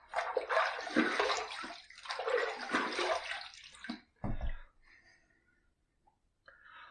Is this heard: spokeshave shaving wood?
no